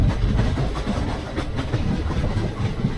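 An ICF-coach Sabari Express runs at speed on a 110 km/h track near Ottapalam, giving a loud, steady rumble with rhythmic clickety-clack from the wheels, heard from inside the coach with no voices.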